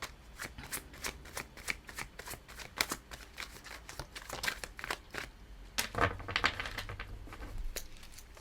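Tarot cards shuffled by hand close up, a steady run of crisp riffling flutters and soft slaps for several seconds, with a denser burst near the end and no voices.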